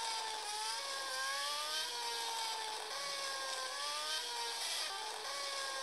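A motorcycle engine in the video game PUBG whines steadily, its pitch rising and falling in smooth sweeps as the throttle shifts, a faint, even mechanical drone with no voices.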